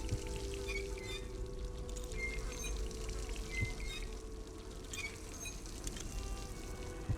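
Steady running water pours continuously from a faucet in the video game Dishonored, with a soft hissing splash, close and unbroken for the whole stretch, with faint clicks now and then.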